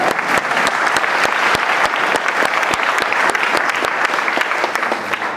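An audience at a public debate event in Bordeaux applauds steadily, a dense continuous patter of many hands with a few sharper individual claps standing out, fairly close and loud throughout.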